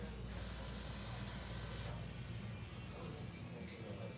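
An aerosol can of hair color spray hisses in a steady close burst onto hair during a fade haircut, running about a second and a half before cutting off, with a faint second puff near the end over a low background hum.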